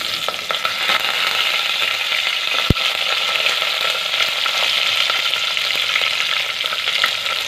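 Onion, curry leaves and mustard seeds fry in a couple of spoons of hot oil. A steady, dense sizzle runs throughout, with one sharp click partway through and no speech.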